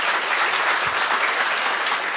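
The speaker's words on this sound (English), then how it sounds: "Let's give our panelists a round of applause for being here." An audience at a healthcare policy panel applauds the panelists, a dense, steady wash of many hands clapping at full volume, sustained and even throughout with no talk over it.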